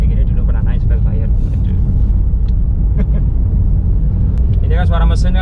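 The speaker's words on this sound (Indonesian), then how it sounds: "Ini kan suara mesin kan masih kedengaran ya dalam kabin ya." A steady low engine drone and road rumble fill a Nissan March's interior, continuous and fairly loud, with faint voices and light cabin sounds over it.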